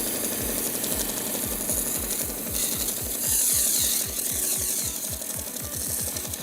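A wooden guitar neck is sanded gently back and forth, a quiet run of quick, regular rasping strokes up close with no one talking.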